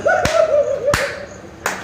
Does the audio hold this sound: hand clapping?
yes